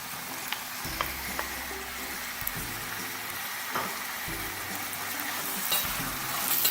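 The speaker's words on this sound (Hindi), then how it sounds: "प्याज और जिंजर गार्लिक पेस्ट में चिकन को फ्राई करेंगे इतनी देर तक जैसे ही कलर चेंज हो जाएगा।" Boneless chicken cubes frying with onion and ginger garlic paste for chicken jalfrezi, a continuous close sizzle with repeated scraping stirs of a spoon against the pan throughout.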